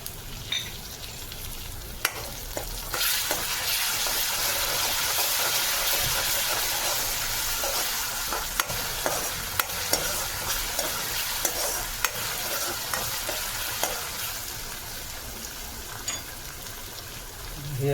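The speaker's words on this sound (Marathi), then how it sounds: "तर आता आपण आलं लसूण पेस्ट टाकूया थोडी." Ginger garlic paste fries in a pan of hot oil while a spoon stirs it, giving a steady loud sizzle with scraping strokes throughout, no voices, for a Marathi pakat fish recipe.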